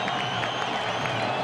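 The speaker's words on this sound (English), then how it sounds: "here comes the crowd in Fresno State" A football stadium crowd at Fresno State cheering, a dense continuous roar of many voices, steady and loud, across a brief stretch.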